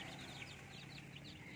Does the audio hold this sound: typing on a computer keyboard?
no